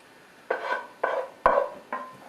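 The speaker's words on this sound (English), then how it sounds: "We're going to take and we're going to put it in a casserole dish." Four soft, evenly spaced scrapes and clunks as a mixture is spooned into an oven-safe casserole dish, close and fairly quiet with no talking.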